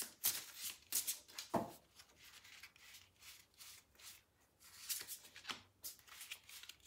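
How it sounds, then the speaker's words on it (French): Tarot cards are laid out and slid across a table, with soft rubbing, shuffling swishes and a few sharper card snaps close by, fairly quiet and irregular. "Je vais poser 3 cartes ici."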